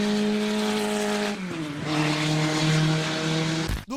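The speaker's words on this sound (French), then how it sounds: "Je vous présente Renault avec une voiture que vous connaissez très certainement, la Renault 5 Turbo." A Renault 5 Turbo rally car roars at sustained high revs, engine note dipping and climbing as it races, loud and close with tire noise and a sharp cutoff near the end, no talking.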